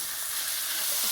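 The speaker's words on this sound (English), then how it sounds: "You have a nice frying going on, and this is when you're gonna add your scarola." Escarole frying in a pan with oil, a dense, even hiss and sizzle that fills the brief moment, close and steady, with no voices.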